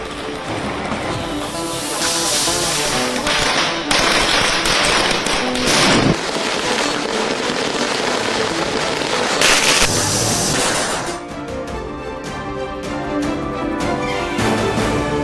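Firecrackers bursting during Diwali celebrations in Chennai, a loud rapid crackle of overlapping sharp pops and bangs, with dense bursts of strings going off and louder thumps standing out, continuous throughout.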